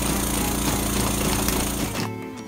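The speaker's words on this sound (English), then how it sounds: "Push the button to make the air pistons turn." A steady mechanical whirring and rattling from an Imaginext pirate ship toy's motorized air pistons turning, loud and continuous before cutting off near the end.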